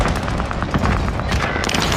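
Frag grenade blast in a multiplayer shooter video game amid heavy, continuous gunfire, with loud booms landing among dense rattling shots over two seconds.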